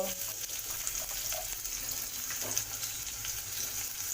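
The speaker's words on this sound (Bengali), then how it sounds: "পেঁয়াজটা হালকা করে ভাজা হয়ে গেছে" Chopped onion with a bay leaf frying in hot oil in a wok, a soft steady sizzle with faint stirring and scraping, close and fairly quiet with no voices.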